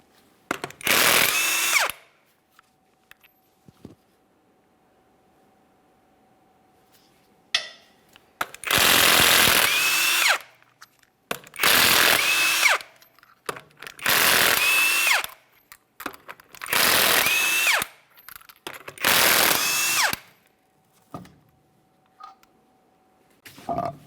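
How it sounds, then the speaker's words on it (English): An impact tool zips off the 22mm lug nuts on a GMC Acadia wheel in six loud, close bursts, each about two seconds long, separated by quiet pauses with faint clinks. "we're going to continue on to removing all 6 of our 22mm lug nuts and then the wheel"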